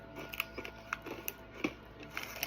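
Crunchy homemade crouton bitten and chewed close up, a few sharp crisp crackles scattered over a couple of seconds with soft chewing in between, no talking.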